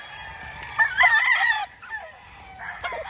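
Chickens in a poultry ranging area, with a rooster crowing loudly and close by over softer clucking and faint background hen calls.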